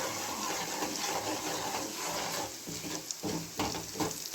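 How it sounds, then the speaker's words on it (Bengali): Water is poured into a small bowl to rinse out tomato sauce while cooking chilli do pyaza, giving a steady splashing, gurgling rush with a few sharper clinks near the end. "জল দিয়ে দিলাম বাটিটা ধুয়ে।"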